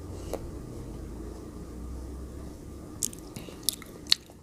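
Large frozen grapes are bitten and chewed up close, giving a few crisp, icy crunches near the end after a quiet stretch of faint mouth sounds.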